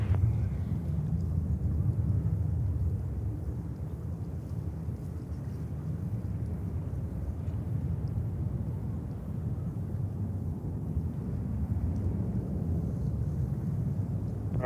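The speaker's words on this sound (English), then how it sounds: "So it looks like Japan Airlines is next to line up here on runway 31 left." Steady low rumble of a Japan Airlines jet lining up on runway 31 left at JFK, heard from a distance as a continuous engine roar with wind-like noise, no voices.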